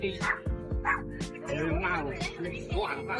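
A Shiba Inu barks repeatedly at a busy pet expo, sharp close yips in an irregular rhythm, mixed with people talking nearby.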